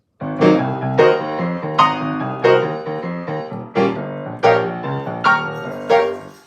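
Piano plays a riff on ninth chords, jumping up an octave twice and coming back down in short, punchy, separated stabs, loud and alone.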